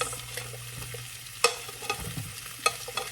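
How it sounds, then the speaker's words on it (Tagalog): Sweet peas sautéed in a pan for beef chop suey, close spatula scrapes and taps over a low sizzle, with several sharp clicks spaced through. "Gisa rin natin yung ating sweet peas."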